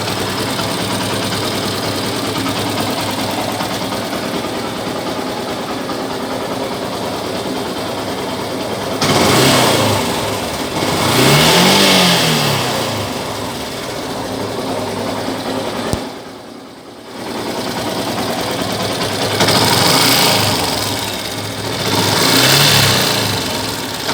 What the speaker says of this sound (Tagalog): So pipigain ko po yung revolution,